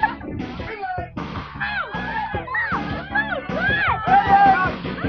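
A TV studio audience of children cheers and shouts excitedly at a game show slam-dunk contest, a lively, high-pitched crowd din mixed with a host talking over it.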